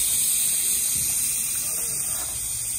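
A steam injector on a 7 1/4 inch gauge Duke of Gloucester model steam locomotive gives a loud, continuous high hiss during a steam test, with someone talking faintly beneath it.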